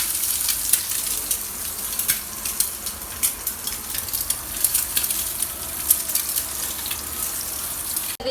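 Garlic frying in a pan, a steady bright sizzle with scattered sharper crackles and pops running throughout, close and fairly loud, with no talking.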